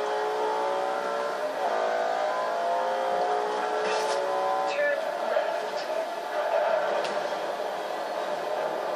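Racing car engine in the Forza Horizon 2 video game roars steadily, revving and shifting pitch through a corner, with someone talking over it throughout.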